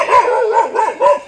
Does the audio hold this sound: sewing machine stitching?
no